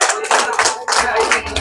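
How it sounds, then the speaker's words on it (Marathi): A women's devotional singing group claps together for newly named office bearers. The clapping comes loud and close in quick, uneven bursts. "म्हणून यांच्यासाठी सर्वांनी एकदा टाळ्या वाजवा।"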